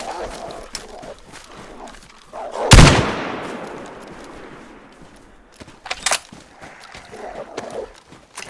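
A shotgun fires once in DayZ, set on a Namalsk-inspired map, giving a single loud close blast with a long decaying tail, and a voice talks before and after it.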